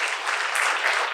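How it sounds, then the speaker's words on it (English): Steady audience applause for a photographer at a talk on the temples of the Deccan, a dense, even wash of clapping with no gaps, fairly close and sustained throughout. "I would like some of you to applaud the photographer"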